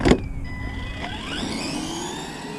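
A small Arrma Gorgon RC truck with an electric motor on a stock 7-cell pack accelerates away after a sharp knock, its motor whine rising and sweeping in pitch, fairly close and alone.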